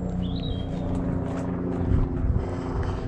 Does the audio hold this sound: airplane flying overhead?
yes